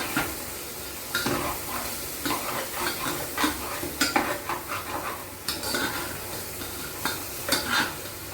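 Chana dal and brinjal frying in a pan, a steady sizzle under repeated close scrapes and clinks of a spoon stirring against the metal, with no talking.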